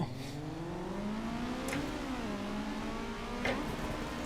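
Four-cylinder car engine in the Assetto Corsa EVO racing game hums and climbs in pitch as it revs, with a gear change midway and a couple of brief clicks, steady and moderately quiet throughout.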